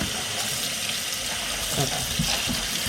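Hot tap water runs steadily into a sink while raw chicken is rinsed under it, a continuous close gushing splash.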